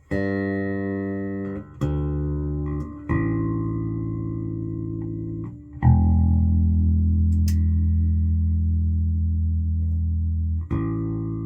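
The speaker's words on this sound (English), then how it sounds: "I'm going to check my tuning first" Sustained low bass guitar notes ring out one at a time, each plucked and left to decay, with pauses between as strings are checked for pitch, on a bass fitted with a Ken Smith preamp.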